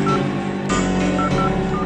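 Touch-tone telephone redial dialing: short, repeated electronic beeps sit inside a dense, loud bed of music throughout.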